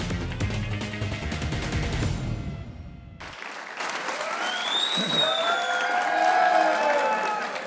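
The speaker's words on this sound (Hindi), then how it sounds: "एक बार सरफराज अहमद के लिए तालियां करेंगे।" A studio audience on a cricket talk show claps in a sustained burst of applause, loud and dense, with show music playing underneath and then continuing alone after the clapping fades.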